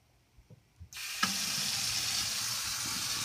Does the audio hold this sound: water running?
yes